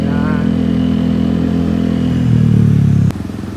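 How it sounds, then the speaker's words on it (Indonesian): Honda Vario 125 scooter fitted with a CLD C1 aftermarket exhaust, idling and revving steadily on an empty road. A low droning engine note rises slightly near the end and then drops off sharply. "Buat ngetes suara motor aja."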